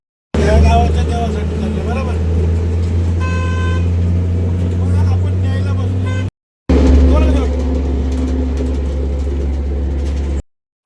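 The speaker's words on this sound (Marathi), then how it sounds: "गावच्या प्रवासाला टेम्पो मधून" A tempo truck on a night village journey, its steady engine and road rumble loud and continuous with a brief cut, a horn toot and voices heard over the drone.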